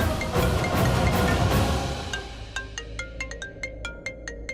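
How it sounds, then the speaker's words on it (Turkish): A phone's electronic ringtone repeats in short bursts of beeping tones after a stretch of broad noise, fairly close and clear. "Bu onun telefonu biri arıyor."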